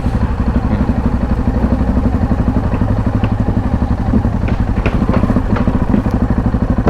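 Enduro motorcycle ridden on the Trans Euro Trail through a Dutch village, a loud close engine with a fast steady throbbing pulse, with scattered clatter and knocks from the bike over the rough surface.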